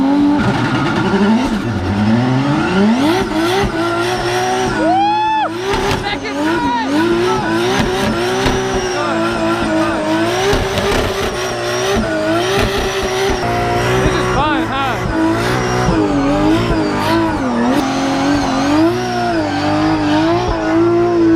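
Toyota Supra MKIV launching hard, its engine revving loudly through repeated rising and falling pitches as the tires squeal, continuous and close for about twenty seconds.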